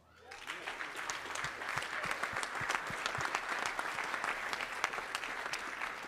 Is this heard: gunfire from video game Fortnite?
no